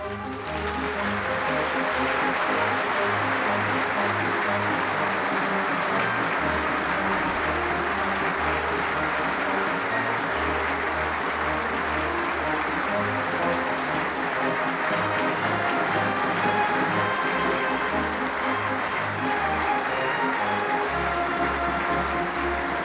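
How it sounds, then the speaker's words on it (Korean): A large audience at the 1987 inauguration ceremony of Samsung Group chairman Lee Kun-hee claps steadily to welcome the flag bearers entering, with a continuous wash of applause alongside a steady, droning march-like musical accompaniment. "기수단이 입장할 때 여러분께서는 힘찬 박수로 맞이해 주시기 바랍니다"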